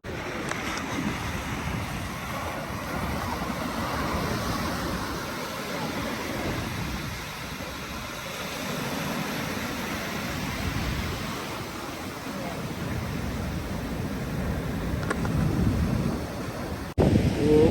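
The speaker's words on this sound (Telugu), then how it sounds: "ఘోరంగా పెద్ద పెద్ద అలా వస్తున్నాయి ఫ్రెండ్స్, భయం అవుతుంది నాకు." Large ocean waves roll and break on a roadside beach near Konark, Odisha, a continuous loud surf roar swelling and easing, buffeted by wind noise on the microphone.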